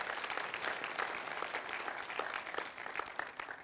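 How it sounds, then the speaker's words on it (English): Church congregation at a Sunday morning service claps together, a faint but busy patter of many hands with irregular sharper claps throughout. "Let's give the Lord a hand clap."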